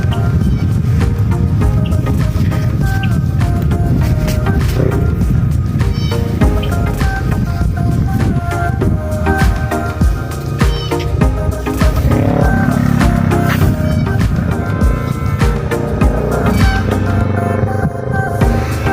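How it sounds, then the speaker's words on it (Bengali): A motorbike passes near a lakeside beach park in Scarborough, Canada, heard as a loud, steady engine drone with a low throbbing hum lasting the whole stretch, masked by heavy wind-like background noise. "যে শব্দটা শোনা যাচ্ছে এটা একটা বাইকের শব্দ"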